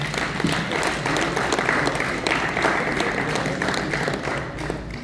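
An audience applauding after a testimony talk on genocide in Burundi: steady, dense clapping from a crowd, sustained throughout at even loudness.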